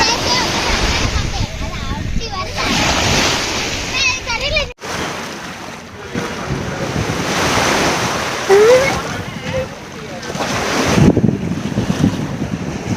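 Sea waves break at Rameswaram beach on a sunny day, a loud surf roar mixed with strong wind buffeting the microphone, with people talking nearby.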